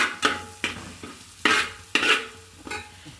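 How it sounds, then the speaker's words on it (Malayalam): Tomatoes and masala sautéing in a pan give a soft sizzle, cut through by about six scraping strokes of a spoon stirring at an uneven pace, close and alone. "തക്കാളിയെല്ലാം നന്നായിട്ട് വഴറ്റി കിട്ടി ആ മസാലയൊക്കെ നന്നായിട്ട് മൂത്തു"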